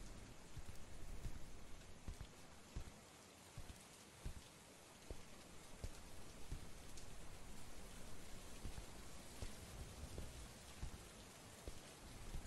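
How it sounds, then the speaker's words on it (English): Heavy rain pours steadily and loudly in a horror video game, a dense unbroken wash of downpour with scattered heavier drops, no talking over it. "This rain's really coming down."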